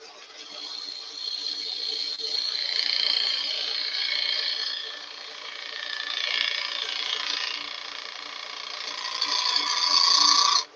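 A spindle gouge cuts spinning olive wood on a lathe while a jug vase is turned, making a continuous rasping, whistling scrape that swells and fades with each pass and stops abruptly at the end.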